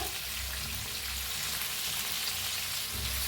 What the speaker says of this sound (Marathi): आता यात हलवून भाजून घेऊया